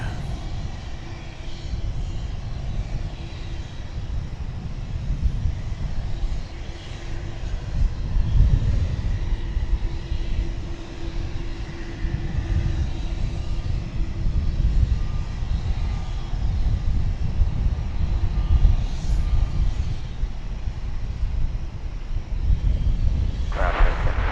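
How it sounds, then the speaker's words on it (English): A UPS Airbus A300 cargo plane lands after arriving from Houston, with a sustained jet engine roar that holds at a steady level and swells slightly near the end, heard from a distance at an airport. "It's going to be UPS Flight 9775 coming in from Houston Intercontinental Airport. This will be an Airbus A300."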